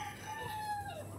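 A gamefowl stag rooster crows once at a game farm, a brief fairly faint call heard at moderate distance over low background noise.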